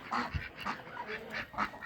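Domestic farmyard ducks, plain drakes and a duck, quack in a short run of raspy, overlapping calls, close by and fairly soft, with no one speaking.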